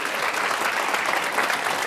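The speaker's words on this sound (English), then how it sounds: "Give her a nice warm round of applause" A live audience gives a warm round of applause as a volunteer from the crowd comes up to join a magician on stage; dense, steady clapping fills the whole stretch at moderate loudness, with no talk over it.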